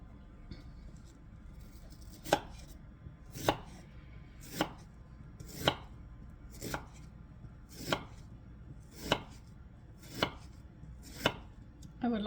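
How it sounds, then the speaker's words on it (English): A knife chops an onion on a cutting board, about ten sharp, evenly spaced strokes roughly once a second, close and clear over a quiet background. "All right, so we're going to chop an onion up."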